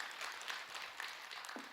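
Brief, moderate applause from an audience at a Buddhist monk's Dharma talk, a short burst of scattered clapping lasting under two seconds.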